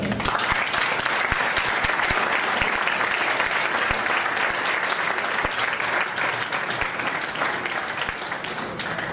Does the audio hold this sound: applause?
yes